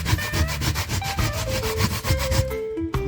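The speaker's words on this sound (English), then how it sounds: "This is the last of it to grater." Coconut is grated on a hand grater for Jamaican coconut toto, with loud, close, rhythmic rasping strokes repeating rapidly throughout and no talk.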